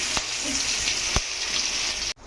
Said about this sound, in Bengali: এরপরে পেঁয়াজগুলো ভাজা হচ্ছে ভালো করে ভাজা হয়ে গেলে